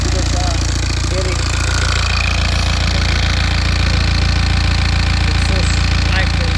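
A rebuilt BMW N47 diesel engine with its exhaust pipe disconnected runs steadily, giving a loud, continuous low rumble with rapid knocking throughout, while voices talk over it.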